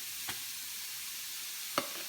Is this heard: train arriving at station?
no